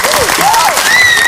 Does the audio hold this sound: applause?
yes